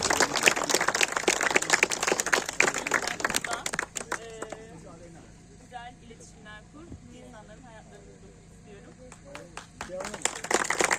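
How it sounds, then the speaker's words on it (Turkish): An audience claps for a young athlete at a 19 May Bergama gathering event, a dense burst of applause for the first few seconds before it fades into a quieter room with voices. "Bir alkış alalım Asya'ya."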